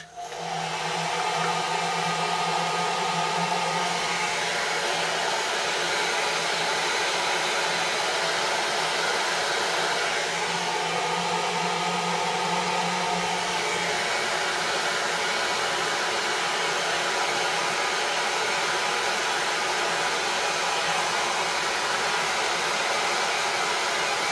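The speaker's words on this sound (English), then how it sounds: "So wait for the blast, because I'm just going to heat it a little bit more." A hot air blower runs steadily and loudly for the whole stretch, heating a glass vase before painting, with a constant whooshing roar and slight shifts in tone.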